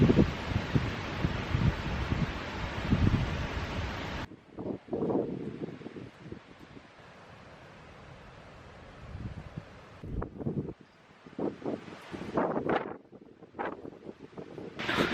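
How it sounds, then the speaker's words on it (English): Strong wind on a farm roars and buffets the microphone in loud gusts, dropping briefly before rushing back in bursts; no voices. "It ended up getting so windy."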